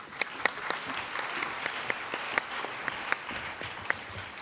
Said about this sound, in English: please welcome Mr. Sakakibara with a big round of applause.